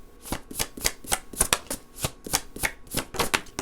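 Tarot cards shuffled by hand at close range, a quick run of about a dozen crisp riffling bursts in steady rhythm, fairly quiet and with no talking.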